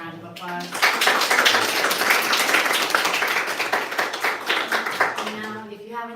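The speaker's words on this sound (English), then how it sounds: "Let's give them a round of applause." An audience applauds panelists at a live local news and culture event, a dense burst of clapping that swells after a moment and holds steady for several seconds, with a few voices mixed in near the start and end.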